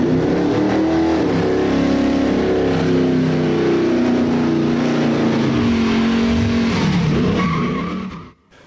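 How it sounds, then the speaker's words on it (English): A truck spins its rear tires in a burnout while a line lock holds the front brakes: a loud, sustained engine roar and screeching tire spin run continuously for about seven seconds before cutting off abruptly. "Now, the one thing left we got to do is to do a burnout with it."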